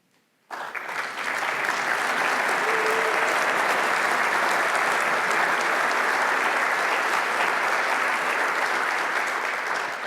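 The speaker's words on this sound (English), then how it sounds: "Our board of directors, if you're here, would you please stand for a round of applause?" Conference audience applauding the board of directors at a RESO spring event, a full, steady wash of clapping that starts abruptly and continues evenly for about ten seconds.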